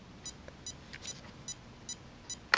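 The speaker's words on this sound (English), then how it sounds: "It'll start beeping like that." Brushless speed controller in a 1/16 RC Ford Fiesta beeping during calibration: a regular series of short, high, thin beeps roughly every half second, faint and close, ending in a brief louder burst.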